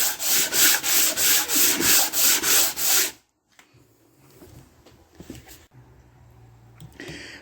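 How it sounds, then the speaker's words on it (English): Emery paper stapled to a long hardwood block rubs back and forth across a 1968 Ford XL exhaust manifold in about eight loud, even strokes, then stops, leaving faint shuffling and handling noises. "now I've got a long piece of hardwood with some emery stapled to it"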